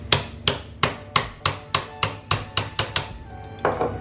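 A small hammer taps sharply and rhythmically, about a dozen close, evenly spaced metallic knocks, to loosen the blade retainer of an electric fan, followed by a brief rustle.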